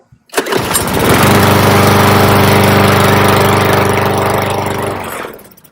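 A push lawn mower is pull-started; a brief tug precedes the small engine catching and running steadily and loudly close by for about four seconds with a harmonic hum before it dies away.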